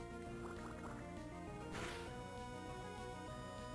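Pokémon Emerald's Water Gun attack makes a brief watery splash and gush over steady looping game music, loud and up front.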